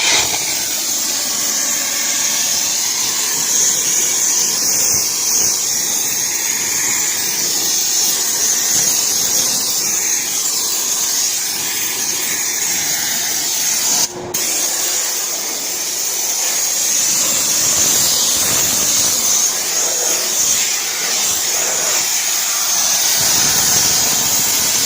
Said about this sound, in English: Here comes the steam.